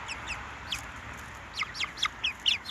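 Small young chickens, roughly twelve weeks old, give short high chirps and clucks in quick scattered bursts over a low background hum, with no talk over them.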